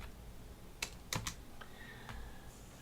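Keys tapped on a computer keyboard while entering data in a LibreOffice spreadsheet: a short, irregular run of quiet clicks, close and faint, with no talking.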